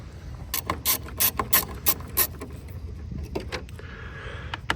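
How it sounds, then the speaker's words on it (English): A hand ratchet clicks in quick bursts while bolts are removed from a Range Rover, the sharp rapid pawl clicks loud and close, grouped in a few runs with quieter mechanical rattles between them. "So let's take the 4 bolts off, unplug it, put a new one in,"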